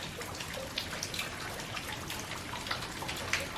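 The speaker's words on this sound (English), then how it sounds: "A cool trickle of water." Close trickling and splashing water at Bork's Falls in Ferne Clyffe State Park, a continuous bright burble with small drips, no voices.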